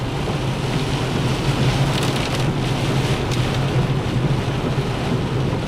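Heavy rain pouring down steadily as a dense, even hiss with a low rumble underneath, continuous and loud for the whole stretch, no talking.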